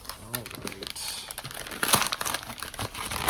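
Paper packaging around a makeup collection is unwrapped and crinkled in close, busy rustling bursts, with someone talking over the crackle.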